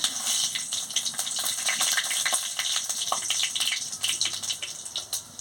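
Dried chillies and panch phoron frying in hot oil, a steady close crackling sizzle with scattered sharp pops throughout, no voices.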